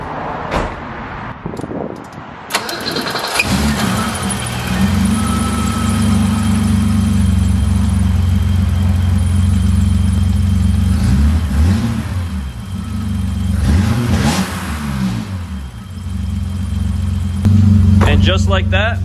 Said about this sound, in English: last thing to do is turn the car on and see if she runs